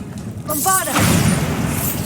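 A Bombarda blasting spell explodes in Hogwarts Legacy, a short voiced cast followed by a loud booming burst with shattering debris that rumbles on for about a second.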